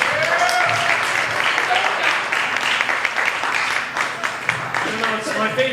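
Clapping from an open mic comedy audience at Camp Bar, a full, continuous wash of hands with some talk mixed in, tapering slightly toward the close.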